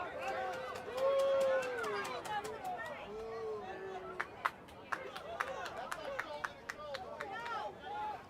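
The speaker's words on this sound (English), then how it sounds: "Can hear what the home crowd think." A home crowd at an NPSL North Atlantic Conference soccer match reacts with rising and falling jeers and whistles, plus sharp scattered claps and shouts. The crowd sounds fairly distant, and a commentator talks over it.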